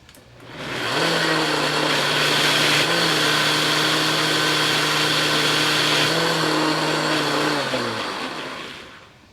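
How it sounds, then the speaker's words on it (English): A powerful countertop blender pureeing curried butternut squash and apple soup, a loud steady motor whir running about seven seconds with a slight pitch shift midway before winding down. "let's blend the rest of this up"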